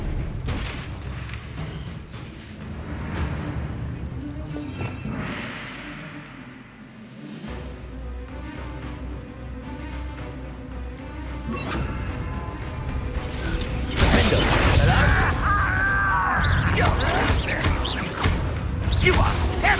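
Bombarda spell explosions in Hogwarts Legacy detonate as heavy booms and crashes amid magical combat, with several loud impacts scattered over the stretch and bursts of spell effects and other noise between them.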